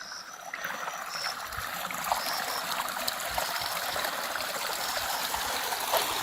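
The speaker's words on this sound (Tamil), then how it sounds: "தண்ணி ஓடுற சவுண்டு வேற பியூட்டிஃபுல்லா இருக்கு." Steady rushing and trickling of a stream flowing through forested foothills on a village trek, continuous and fairly close, with no talk over it.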